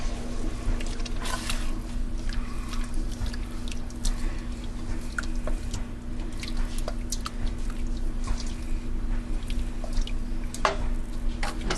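Tortilla soup with tomatoes being stirred in a pot, giving continuous wet sloshing, dripping and splashing with scattered clinks, close and fairly soft over a steady kitchen hum.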